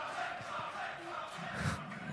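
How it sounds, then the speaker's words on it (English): A crowd at a Yu-Gi-Oh UK Nationals tournament final roars and cheers in a sustained, excited swell, with a few louder shouts rising near the end. "Crowd getting very excited to see this Gimmick Puppet hit the field"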